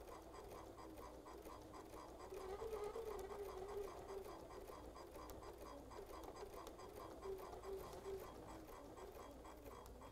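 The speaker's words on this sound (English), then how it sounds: "I'll just stitch a short distance and we can see how that looks." A sewing machine runs steadily through fabric for a short stretch, its fast even stitching whir and rapid ticking continuous throughout, close and without talk.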